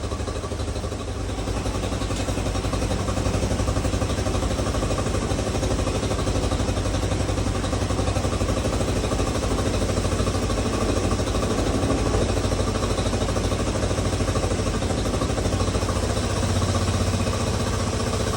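A 1986 Honda CT110 motorcycle engine runs alone during a carburetor rebuild and adjustment, a close, steady, rapid single-cylinder putter that idles and rises slightly in revs as the mixture screw is turned.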